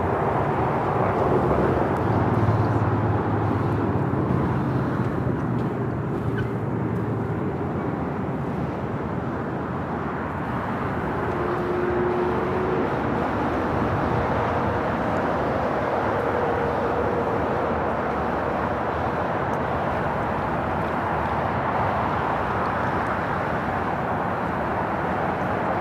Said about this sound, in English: Got that China Airlines cargo 777 freighter.